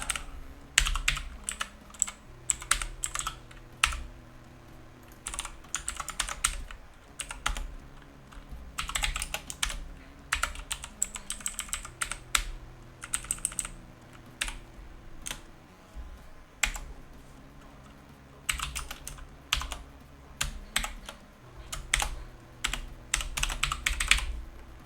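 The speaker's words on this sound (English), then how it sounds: "oh, come on, John, get typing" Rapid bursts of typing on a computer keyboard during a retro 6502 game jam coding session, clattering in uneven clusters with short pauses, close and fairly loud over a steady low hum.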